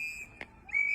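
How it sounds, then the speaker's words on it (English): Bystanders in Minneapolis blow shrill whistles at federal agents: a sustained piercing tone, a short gap, then a louder whistle resumes, close and without speech. "Bystanders are blowing whistles and yelling at federal agents."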